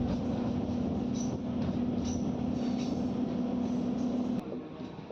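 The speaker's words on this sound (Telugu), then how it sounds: "సంగం జాగర్లముడి స్టేషన్కి మన ట్రైన్ చేరుకుంది" A MEMU train on the Repalle–Guntur line rumbles along with a steady low drone and a sustained tonal hum that cuts off near the end as it slows into Sangam Jagarlamudi station.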